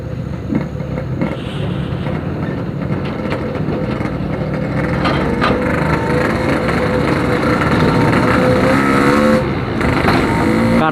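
A Yamaha RX King two-stroke motorcycle engine revs loud and close with a rising, buzzing drone held steady throughout, with no talking over it.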